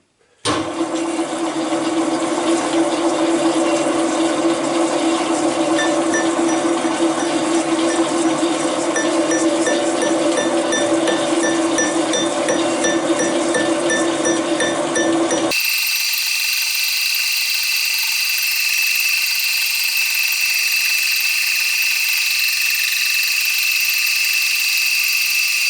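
A milling machine cuts teeth into a 120-tooth gear at a 1 mm depth of cut, giving a steady, loud metallic whirring and grinding that runs continuously, then shifts abruptly to a higher, thinner machining tone partway through.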